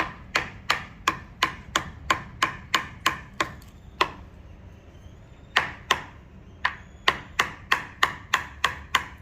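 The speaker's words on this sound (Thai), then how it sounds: "เราจะตอกงัดตอกงัดแบบนี้ไปเรื่อย ๆ นะคะมันก็จะสำเร็จ" Sharp, repeated hammer blows in a fast steady rhythm, two runs of strikes broken by a short pause, loud and close, while hammering and prying off floor molding.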